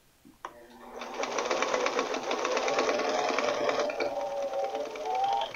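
A sewing machine chain-sews quarter-inch seams on a quilt block. The motor starts abruptly and runs in a fast, even mechanical whir and rattle at close range, easing in pitch near the end, with no talking.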